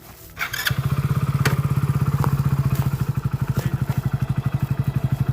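A motorcycle engine starts up and idles with a loud, rapid, rhythmic putter close by, with occasional clicks and clatter over the steady thumping.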